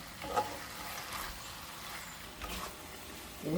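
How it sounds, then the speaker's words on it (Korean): Webfoot octopus (jjukkumi) stir-fried over high heat, a soft, steady sizzle with faint scraping and stirring sounds, fairly quiet and short. "센 불에서 얼른 볶으세요."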